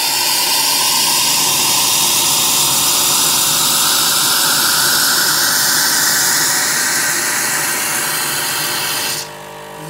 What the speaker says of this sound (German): was da so brummt, ist die Kaffeemaschine